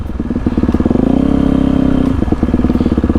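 A small motorcycle stuck in sand revs up, its engine note rising to a buzzing peak and then falling back to a chugging idle, loud and close.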